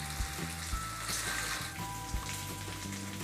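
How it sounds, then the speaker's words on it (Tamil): Cut taro root (arbi) fries in hot oil with a steady, close crackling sizzle and scattered soft pops, heard alone. "நம்ம சேப்பங்கிழங்க ஆயிலில் சேர்த்து ஒரு 5 நிமிஷம் வரைக்கும் நல்லா ஆயிலே வறுத்து எடுத்துக்கலாம்"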